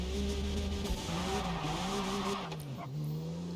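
A car on new, better-gripping tires pulls away with a steady engine drone, the revs climbing and dipping as it sets off, close and continuous with a slight tire noise.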